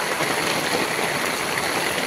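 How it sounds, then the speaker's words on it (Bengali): A dense, even roar of heavy rain falling fast, close and continuous without breaks. "দেখো কত স্পিডে বৃষ্টি পড়ছে।"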